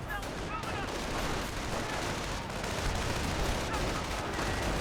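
Company of Heroes 1 battle sounds: dense, continuous gunfire and grenade explosions, loud and unbroken, with a commentator talking over the combat.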